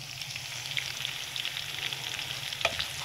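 Curry leaves sizzle and crackle in hot oil in a frying pan while biryani is being made, a steady close hiss with scattered sharp pops throughout, and no voices.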